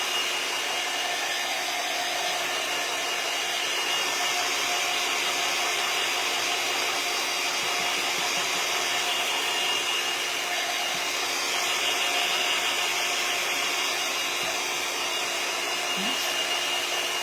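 A hair dryer blows steadily to dry paint on a rustic yardstick Christmas tree craft, a constant close whooshing hum that holds unchanged throughout with no talking.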